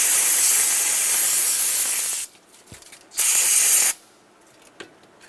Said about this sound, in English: Take a clean rag with a bit of parts cleaner.